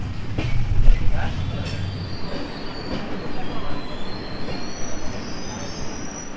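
The Puri–Shalimar Jagannath Express rumbles and rattles along the rails into Santragachi station with a faint high squeal, steady and fairly close, with no voices.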